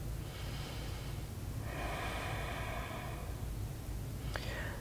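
Slow, faint breathing during a yoga pose: a couple of soft airy breaths over a quiet low background hum.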